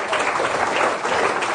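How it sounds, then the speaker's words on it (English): An audience applauds players at a live evening event, a short burst of dense, even clapping that stays loud and steady throughout. "Another round of applause for those guys."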